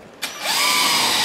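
Power drill driving screws into pre-drilled holes while installing a home show display, a short close whine that starts abruptly and rises in pitch as the motor spins up.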